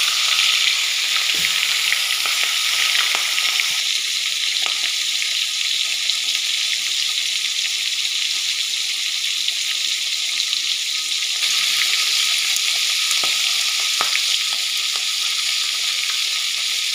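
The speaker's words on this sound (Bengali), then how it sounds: "কড়াইতে তেল গরম হয়ে গেছে। আমি এবারে মাছের মাথা দুটো ছেড়ে দিচ্ছি।" Two fish heads frying in hot oil in a wok give a steady, close, continuous sizzle with occasional sharper pops and spatters throughout.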